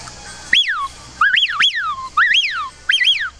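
A person whistles an imitation of a Eurasian wigeon's call, with cupped hands, at a hunting festival: four bursts of shrill, swooping whistles rising and then falling, each burst with two or three notes, fairly loud over faint background noise.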